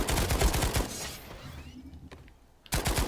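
Rapid bursts of a 2-shot gun firing in a video game, loud and close at the start, fading into a quiet gap before another loud burst at the end.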